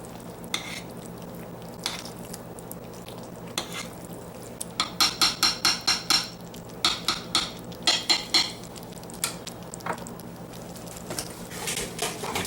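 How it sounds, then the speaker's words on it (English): A spoon stirs a pot of thick chicken and quinoa chili, starting with scattered scrapes and clinks, then settling into a quick run of regular rhythmic metal scrapes against the pot, close and clear with no talking. "Let's give it a quick stir here."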